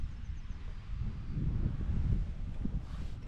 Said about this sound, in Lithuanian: Oras labai taip įdomiai vėjas kaitaliuojas iš vienos pusės, iš kitos